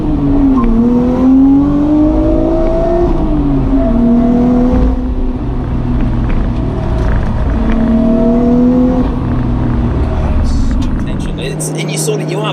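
A Nissan Skyline R33 GTST with Haltech anti-lag and a straight-through exhaust revs and pulls hard, its engine pitch climbing and dropping through repeated gear changes, loud and close, with someone talking over it.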